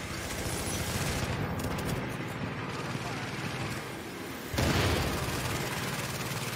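Gunfire in the video game The Division, dense rattling bursts of shots forming a continuous loud barrage, with a sharp heavier crack near the end and a voice talking over it.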